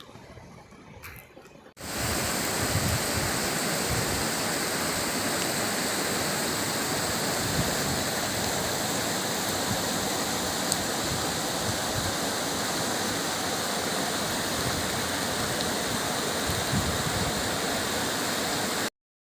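Heavy monsoon rain pouring down with flowing water in a town, a loud, constant roaring wash that starts abruptly after a brief quieter moment and continues unbroken.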